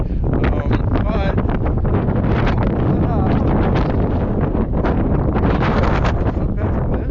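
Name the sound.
strong wind in the desert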